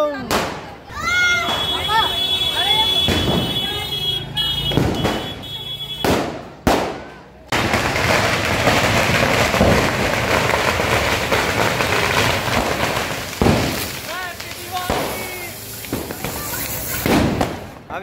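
Diwali firecrackers going off nearby, with several sharp loud bangs early on followed by a long stretch of dense crackling bursts, while people talk and shout throughout.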